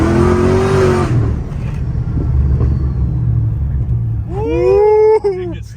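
Supercharged 2009 Pontiac G8 with about 700 wheel horsepower, a loud close engine roar and rumble with a high whine, ending in sharp rising revs.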